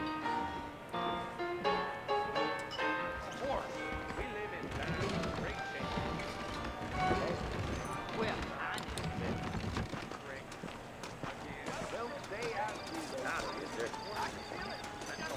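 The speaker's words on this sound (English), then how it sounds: "I got the horses saddled up and ready out front." Horse hooves clip-clop at a steady trot beneath talk and background music, with occasional snorts mixed in, from saddled horses in the video game Red Dead Redemption.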